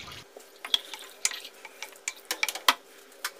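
Two glasses of water go into soaked rice in a pot in a home kitchen, heard as light splashes and trickling drips in irregular bursts against a quiet background.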